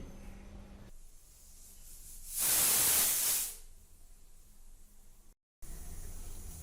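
A pressure cooker cooking dal lets off a single loud, rushing hiss of steam lasting about a second, rising and fading over a quiet kitchen background, followed by a brief cut of silence.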